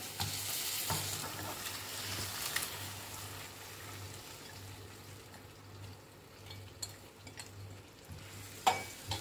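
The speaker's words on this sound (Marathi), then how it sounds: "ती पण व्यवस्थित परतून घेऊया मसाल्यामध्ये" Boiled sprouted moth beans sizzle in masala in a hot pan while a spoon scrapes and stirs repeatedly, a steady frying hiss throughout.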